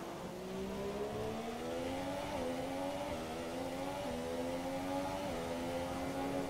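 Formula 1 race car engine on the Baku street circuit in F1 2017, a steady high whine that climbs through the gears with brief drops at each upshift, heard up close and without pause.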